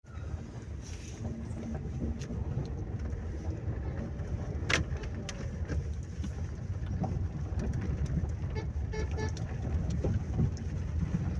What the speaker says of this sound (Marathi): हा बघा हा सगळा ट्रॅफिक जो मुंबईच्या दिशेने जाणार आहे